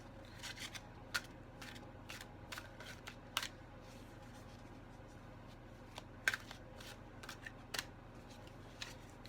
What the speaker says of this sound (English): let me do one more shuffle and that should do it